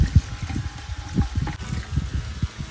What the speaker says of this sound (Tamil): இந்த நத்தையை வேக வைக்கிறதுக்காக ஃபஸ்ட்டு தண்ணி ஊற்றிப்போம்